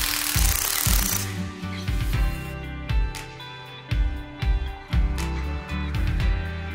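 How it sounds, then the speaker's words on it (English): An impact gun with a C-frame socket set presses out a vehicle bush in several loud, rapid hammering bursts separated by brief pauses, close up and with no talking. "Grab your impact gun, and in less than 2 seconds,"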